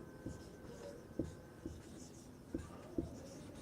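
Pen writing a Hindi application letter on paper: faint scratchy strokes with a few light taps as words are formed, quiet and close.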